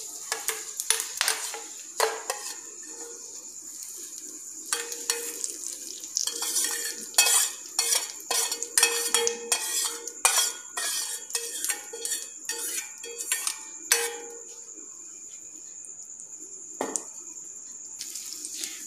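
Coconut-mint chutney being stirred after a hot tempering is poured over it, giving repeated scraping and clinking strokes of a spoon against the bowl with a faint sizzle underneath, close and fairly quiet.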